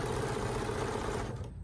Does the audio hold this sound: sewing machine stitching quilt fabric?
yes